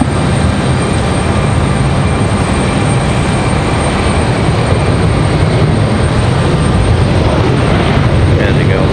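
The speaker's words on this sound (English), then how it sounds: "There they go. Finally off the runway." A United airliner taking off from the Raleigh-Durham runway produces a loud, steady, continuous jet engine roar with broad rushing noise throughout.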